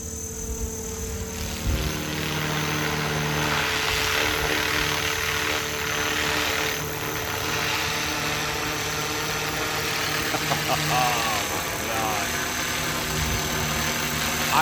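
A remote-controlled helicopter flies close by with a loud, steady whine and rotor buzz that holds throughout, the pitch wavering slightly as it hovers and moves.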